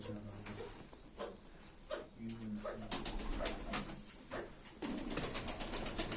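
Tumbler pigeons in a loft cooing in short, low, throaty phrases, several calls spaced irregularly over soft rustling and background noise, close and moderately loud.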